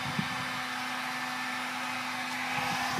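Heat gun blowing hot air while heating vinyl hash stripes on a vehicle, a steady loud whooshing hiss with a constant hum, unbroken for the whole few seconds.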